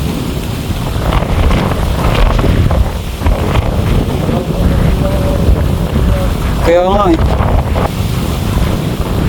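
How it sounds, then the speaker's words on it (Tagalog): Strong wind roars steadily across the microphone at a riverside fishing spot for gourami and tilapia, a constant loud rumble with people talking over it. "Sobrang tangay ng hangin eh."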